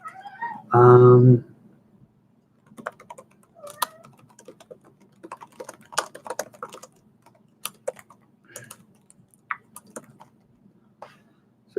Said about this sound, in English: I guess we're gonna have to type on this one.